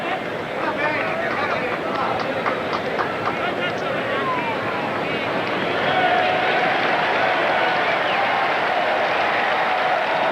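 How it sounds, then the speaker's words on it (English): A revved-up baseball crowd at the 1991 MLB All-Star Game roars and cheers steadily throughout, dense and loud, with a broadcast announcer talking over it. "This crowd is revved up and they're having fun."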